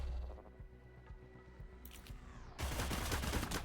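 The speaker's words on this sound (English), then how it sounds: "And no one else heard the gunfire" Rapid gunfire from the video game Cyber Knights: Flashpoint Chrome: a low hum and faint clicks give way to a loud, dense volley of shots that lasts to the end.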